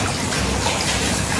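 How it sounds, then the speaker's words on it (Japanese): River flowing near an open-air hot spring at Oigami Onsen in Gunma, Japan, a steady broadband rush of water, loud and unbroken through a brief stretch with no voices. "遠くに川の音が聞こえるのもすごくいいし"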